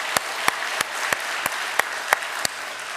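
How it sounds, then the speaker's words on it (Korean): A church congregation applauds during a Sunday worship service. The clapping is fairly close and steady, with a handful of distinct, evenly spaced sharp claps standing out above the general patter for about three seconds. "박수 한번 치시죠."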